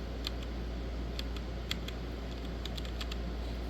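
A Royal Kludge RK61 mechanical RGB keyboard being typed on, with a steady run of crisp, close key clicks and occasional louder strikes over a constant low hum, without any talk.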